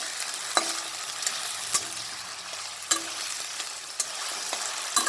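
Onions fry in three tablespoons of hot oil with a steady soft sizzle, broken every second or so by sharp clicks of a spoon stirring against the pan.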